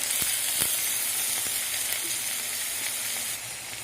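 Spring onion greens frying in a pan give a steady, close sizzling hiss, with a few soft clicks and stirring knocks breaking through the constant crackle.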